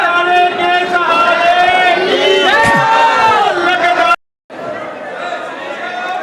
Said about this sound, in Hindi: कितना यहाँ पर श्रद्धालुओं में हजूम भीड़ देखने को मिल रही है।